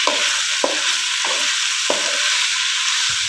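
Salted jackfruit frying in a pan, with a steady bright sizzle and a few evenly spaced spatula scrapes and taps across it, close and with no voices.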